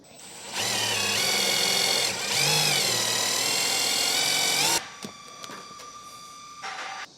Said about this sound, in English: we'll just use the included self-tapper, get it attached right about here.